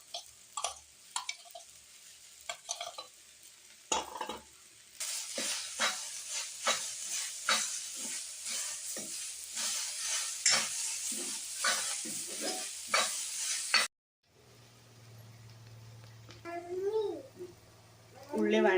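Onions being sautéed with crushed garlic and ginger for a beef curry give a close sizzle with frequent spatula scrapes for most of the stretch. Then it cuts to a quieter passage with voices and a faint hum.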